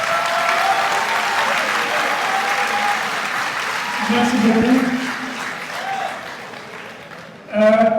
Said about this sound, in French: je pense que les applaudissements ne sont pas à la hauteur de la production